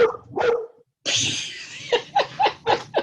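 A dog barks in a quick series of sharp, close yips and woofs, loud and distinct, with a brief gap early on and no talk over it.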